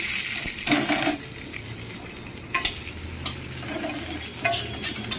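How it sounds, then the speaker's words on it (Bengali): Onion hits hot oil in a pan and crackles softly while a spoon stirs and scrapes at intervals, close and steady, for a ridge gourd dish cooked in oil without water. "তেলটা গরম হয়ে এসেছে এবারে আমি দিয়ে দেবো সামান্য একটু পেঁয়াজ"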